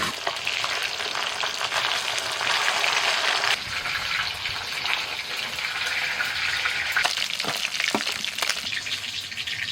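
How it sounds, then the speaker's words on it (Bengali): Japanese puti fish fry in a batch of three in hot oil, giving a loud, continuous close sizzle with occasional stirring clicks and spatters toward the end, with no talking. "মাছের যা সাইজ তাতে তিনবার আমাকে ভাজতে হবে"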